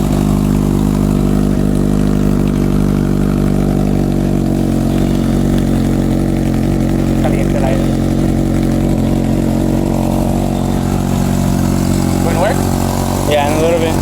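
A Kawasaki Z800 motorcycle with a Delkevic Mini 8-inch carbon exhaust idles close by, a steady deep rumble holding evenly for the whole stretch, with a few faint clicks and light handling noises near the end.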